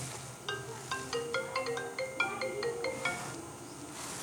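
A phone ringtone plays a quick, bright electronic melody of repeated beeping notes, fairly quiet and steady, with no voices.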